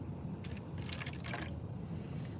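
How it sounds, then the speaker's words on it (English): A container being filled with water from a tap in a spring garden, a brief faint splashing rush under steady low background hum, no talk. "Fill it with water."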